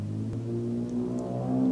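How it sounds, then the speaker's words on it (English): A car engine hums and rises steadily as traffic passes nearby, a smooth mid-pitched drone that builds slightly over a brief span with no voices. "You can tell it's real because the cars are driving by."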